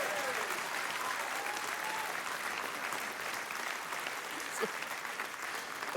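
Studio audience applause on a late-night talk show, a steady, dense wash of clapping that holds at full strength for about six seconds, with a brief whistle or whoop near the end.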